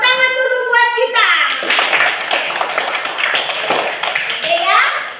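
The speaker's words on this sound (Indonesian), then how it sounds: "Ayo tepuk tangan dulu buat kita." In a classroom, a child's sung tone gives way to a burst of clapping from a group of hands, mixed with children's voices, lasting several seconds.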